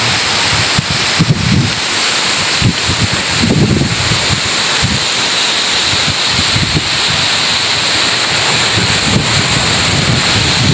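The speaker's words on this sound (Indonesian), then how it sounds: "Ini anginnya kenceng banget sedulur di sepanjang pantai." Strong wind blowing along the west Lampung coast in Indonesia, a steady loud roar with gusty buffeting against the microphone and surf in the background, continuous for about eleven seconds with no voices.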